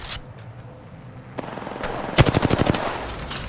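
Video game gunfire, an automatic weapon ripping off a rapid burst of about a dozen sharp, loud shots after a few scattered single cracks.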